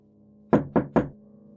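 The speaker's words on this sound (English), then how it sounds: "They were outside my room, knocking on the walls." Three sharp, evenly spaced knocks on a wall, close and loud, over a low steady hum.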